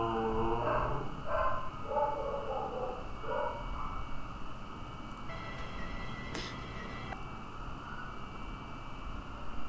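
A dog barks in a short burst of several yelps early on, fairly near, then gives way to a steady background hiss with a brief sharp tone near the end.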